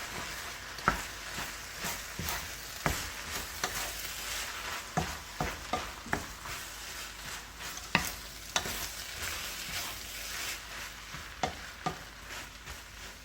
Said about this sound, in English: You want to saute this on high heat, but after you add the rice, you want to turn it down to about medium heat